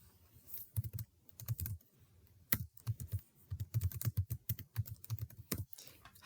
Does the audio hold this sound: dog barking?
no